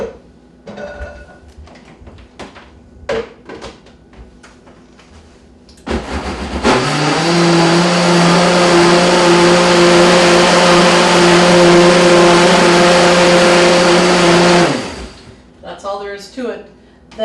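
Kitchen blender whirring through four cups of raspberries for a cake sauce, a loud steady motor drone lasting about nine seconds, with someone talking before and after.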